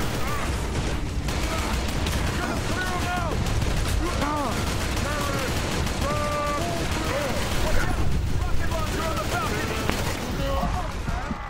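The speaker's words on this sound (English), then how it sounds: "I just downed myself by shooting a rocket launcher really close" A shooter battle in the video game Inversion, with a rocket launcher fired at close range amid steady gunfire, loud and dense throughout, while a voice talks over the noise.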